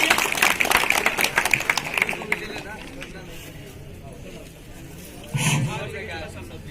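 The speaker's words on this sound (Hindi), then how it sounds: "जोरदार तालियां उनके लिए" Audience applause at a school prize ceremony for a science quiz, loud and dense for about two seconds, then thinning into scattered claps and room murmur, with a brief burst of voices near the end.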